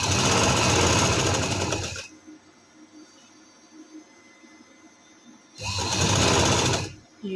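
Sewing machine stitching a trouser: two loud, fast runs of rapid mechanical clatter, about two seconds each, split by a quiet pause with faint handling sounds.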